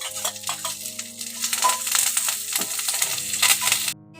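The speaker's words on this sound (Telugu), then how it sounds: "కరేపాకు, ఎండుమిరపకాయలు వేయించుకుందామండి. ఇందులోనే తెల్లగడ్డలు వేసుకుందామండి." Curry leaves and dried red chillies fry with garlic in hot oil for a sorghum flakes masala mixture, giving crackling sizzle and clattering stirring, fairly loud and close, with the sound cutting off abruptly at the end.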